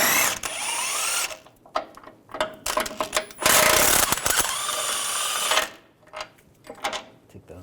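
Bolts come off a steering rack on a 2015-2018 GMC Sierra 1500 5.3L V8 as a power tool spins a 24mm socket in loud bursts, each whirring and rattling, with quieter clicks and clanks between them.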